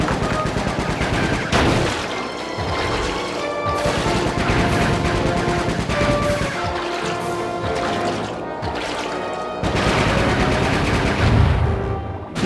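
Gunfire in the video game Sly 3: Honor Among Thieves, dense bursts of shots rattling on through the whole stretch, loud and busy with layered game sounds and music beneath.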